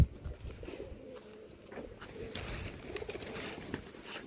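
Rajshahi local Giribaz and Pakistani pigeons coo in a loft, soft low rolling calls repeating close by, with some rustling and shuffling among the birds.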